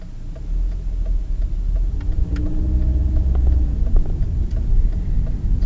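Cars rumble through traffic in a steady, close engine drone with swelling low roar as vehicles move past, no voices.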